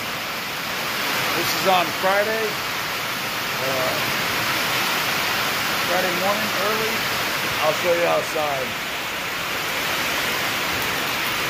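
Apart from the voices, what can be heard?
heavy pouring rain outside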